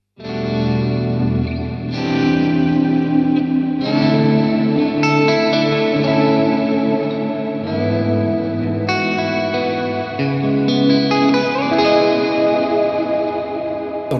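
Clean electric guitar patch with heavy reverb from a Hotone Ampero Stage II pedalboard, loud sustained chords ringing out and overlapping in a wash of echo, with no voices.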